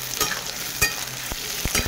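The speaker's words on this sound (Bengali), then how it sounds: "টমেটো কুচিগুলো দিয়ে দেবো। ভালো করে ভেজে নেবো।" Chopped tomatoes frying in a pan, a steady hiss of sizzling broken by several sharp scraping strokes of a stirring utensil, close and fairly quiet, no voices.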